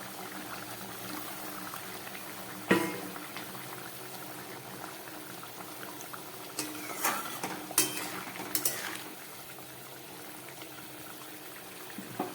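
Fried paneer goes into a simmering potato curry in a pan, with a steady bubbling hiss throughout, a sharp clank of utensil on pan early on, and a cluster of scraping, stirring knocks later before it settles back to a simmer.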